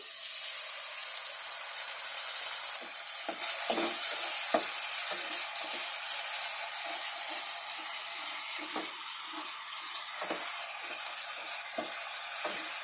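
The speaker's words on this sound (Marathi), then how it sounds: "आता याच्यामध्ये ती मिरचीची पेस्ट बनवली आहे ना ती ओतते" A steady, loud hiss of frying as chili paste is poured into a hot pan holding the white part of spring onion, with frequent scraping stirs and small taps on the pan throughout.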